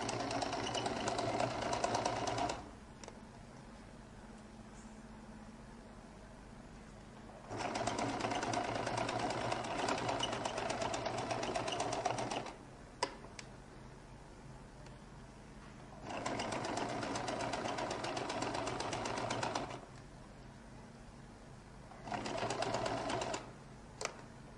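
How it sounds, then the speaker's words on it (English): A sewing machine stitching near the collar of a lady's jacket runs in three long steady whirring bursts and a short final one, separated by quiet pauses. "I'll make sure that I sew a little bit away from the collar"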